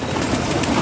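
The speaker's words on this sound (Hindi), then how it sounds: "कबूतर अकेले अकेले भी निकल के आ रहे हैं जी" Racing pigeons cooing as they return to their loft in Punjab, a close, steady low cooing murmur that fills the short moment without talk.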